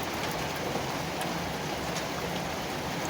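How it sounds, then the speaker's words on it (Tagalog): Summer rain falls steadily and fairly softly, an even hiss of drops pattering on surfaces that goes on without a break. "Rain, come again."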